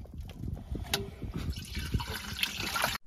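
Gray water pours from an RV's gray water valve into a bucket, a close, continuous splashing gush that runs steadily before cutting off abruptly at the end.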